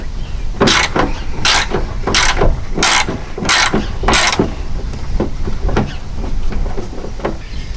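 A ratchet works 13mm fender bolts loose on a 1995 Ford F250, making a series of sharp, loud clicking bursts in a regular rhythm, close up over a constant low background rumble, fading to softer clicks later.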